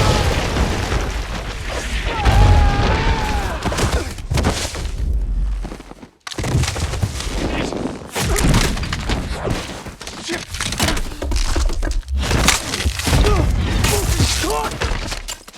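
Dense film battle mix from a war movie, with booming impacts, bursts of gunfire, and thuds of weapons and bodies hitting the ground. It is loud throughout, with a brief dropout near the middle and some voices underneath.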